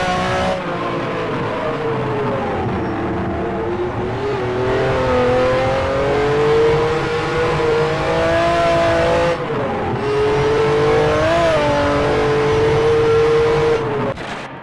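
The engine of a Ferrari 512 BBLM race car in a historic sportscar sim race at Road Atlanta, heard on board, roars loudly and continuously. It rises through the gears, drops sharply on two lifts, then winds back up, with no talking.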